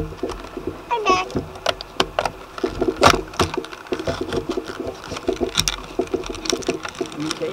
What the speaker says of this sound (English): it's got a little sewing machine